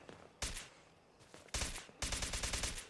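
Fallout 4 video game gunfire: a sharp shot, a softer one, then a loud burst and a rapid run of repeated shots toward the end, loud and close with no talking.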